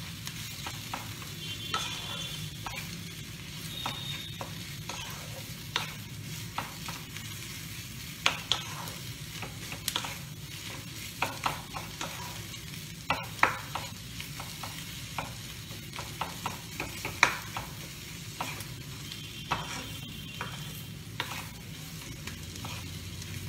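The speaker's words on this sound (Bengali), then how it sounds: "চিকেন কিমাটা একটু ভাজা ভাজা করে নেব" Chicken mince fries in a pan with a low continuous sizzle. Frequent irregular scrapes and clicks of a spatula stirring it run throughout, close and fairly quiet, with no one speaking.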